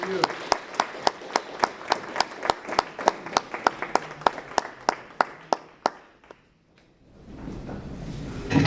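A small audience clapping for a speaker at a Catholic talk, sharp regular claps ringing out at a steady pace for several seconds before thinning to a few stragglers and fading into room murmur.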